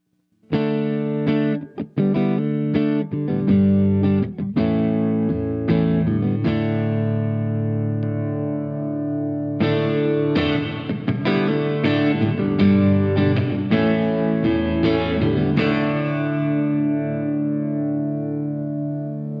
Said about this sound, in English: And room reverb is designed to be subtle.